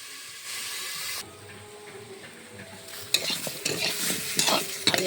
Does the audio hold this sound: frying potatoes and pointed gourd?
yes